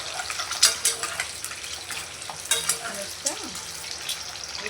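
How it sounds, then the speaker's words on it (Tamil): Eggs frying in oil in a pan for Tamil-style egg gravy, a steady close sizzle broken by scrapes and clinks of a spatula turning them, with no voices. "நல்லா ஃப்ரை ஆகட்டும்."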